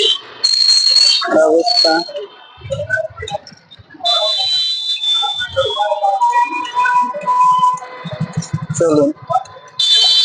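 Busy Kolkata street traffic with horns honking again and again through the whole stretch, shrill and overlapping, while someone talks over the din.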